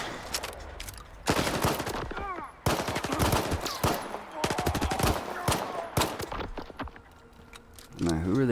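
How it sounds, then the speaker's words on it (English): Rapid bursts of automatic gunfire crackle in Stalker 2, fired by others in sharp volleys that stop and start, fairly close and loud, with a voice speaking between them. "Now, who are they shooting at?"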